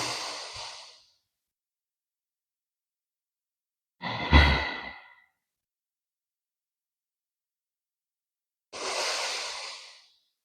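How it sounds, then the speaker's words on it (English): Three slow, deep breath-work exhalations, each a soft airy whoosh lasting about a second, spaced several seconds apart with silence between, the middle one slightly stronger and breathier. "So breathe in nice and deep, fill up those lungs. And contract, exhaling."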